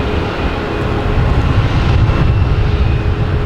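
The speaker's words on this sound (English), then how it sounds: "we got a JetBlue coming in, an A220 on 4 left" A JetBlue Airbus A220 airliner lands on runway 4 left at Boston Logan, a loud, constant low roar of jet engines that swells slightly toward the middle.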